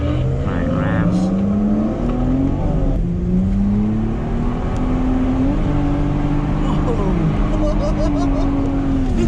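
A 150bhp Lexus drifting at a track, its engine revving hard with rising and falling harmonic sweeps, loud and close throughout, while tyres and motor sounds sit under occasional voices talking inside the car.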